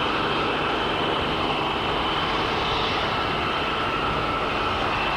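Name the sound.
supersonic passenger jet aircraft at air show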